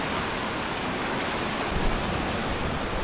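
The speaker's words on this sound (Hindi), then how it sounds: "देखो भाई पानी का डेंजरस फ्लो" A fast, dangerous river current rushes past a roadside, a dense continuous roar of water, loud and even throughout with no talk.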